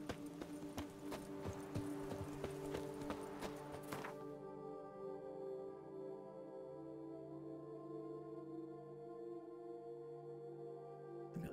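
A horse's hooves clip-clop steadily in The Witcher 3: Blood and Wine, a regular, moderately quiet trotting rhythm that carries through the whole stretch, softening after the first few seconds and heard alone without speech.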